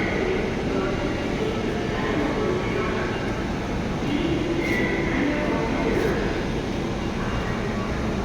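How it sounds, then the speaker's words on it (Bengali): A Dhaka metro train from Motijheel heading north rolls past with a dense, steady roar that holds for several seconds, with faint talk blended into the noise. "এই ট্রেনটি মতিঝিল থেকে এসেছে, উত্তরের দিকে যাচ্ছে।"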